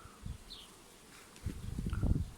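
A honeybee swarm entering a hive gives a soft, close buzzing hum of many bees, faint at first and then swelling louder in the second half, with no voices.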